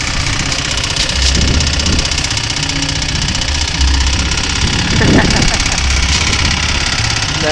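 A go-kart engine runs steadily close by with a rough, knocking idle, while people talk over it.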